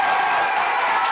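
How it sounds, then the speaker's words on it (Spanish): A television studio audience applauds in a dense, even burst of clapping with a hint of cheering, heard briefly and at full volume. "la recibimos así con un fuerte aplauso a Marianela González"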